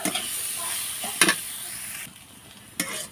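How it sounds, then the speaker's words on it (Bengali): Steady sizzling of food frying in a pan on medium heat, with a couple of sharp scraping stirs cutting through the hiss. "মিডিয়াম জালে এটা ভাজতে হবে"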